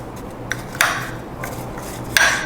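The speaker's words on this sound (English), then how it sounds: "Now use your spoon. Mix it all up." A spoon stirs sliced apples with butter, salt and honey in a dish, giving a few sharp clinks and scrapes against the bowl, with quieter rubbing between them.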